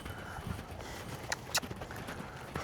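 A horse's hooves strike soft ground at a lope in an outdoor riding session, a few muffled, distant thuds under steady background noise.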